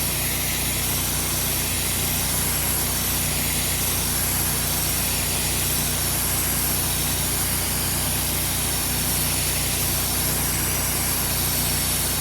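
Engine-driven sprayer steadily soaking landscaping plants such as Japanese maples and small flowering bushes, a constant broadband motor drone with hissing spray running unbroken throughout, fairly loud and close.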